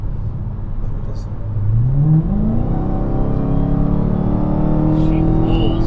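A Dodge Hellcat accelerates hard from inside the cabin, its engine note climbing steadily in pitch and volume as it pulls, with a voice briefly heard over the drone.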